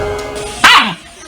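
A pet dog gives a single sharp bark near the microphone, which breaks through a background of steady low noise and then trails off into a brief whine.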